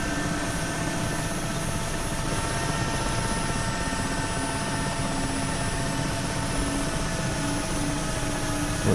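Mi-8 helicopter in the DCS flight simulator hovering near lighting lamps, a steady, loud rotor and turbine drone that holds evenly throughout with no talk over it.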